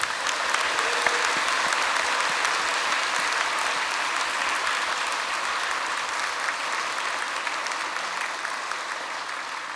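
Church congregation at a 50th anniversary thanksgiving service claps steadily in honour of an ordained deacon, a dense, even wash of applause lasting about ten seconds and slowly tapering.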